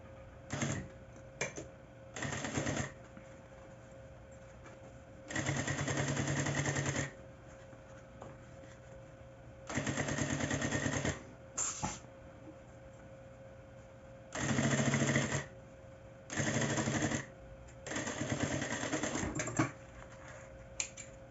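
A sewing machine stitches a finishing seam on a fabric bag. It runs in bursts of rapid mechanical whirring that last a second or two, separated by quiet pauses and soft handling clicks.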